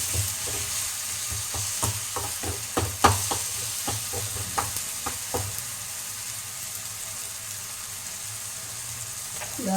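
Ginger garlic paste sautéing in a pan for mutton bone soup, a steady frying hiss broken by a run of quick clicks and scrapes from stirring, then a calmer sizzle.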